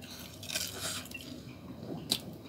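Someone bites into and chews sweet, crispy fried banana fritters (pisang goreng), a few faint, close crunches with soft chewing between them and no talk.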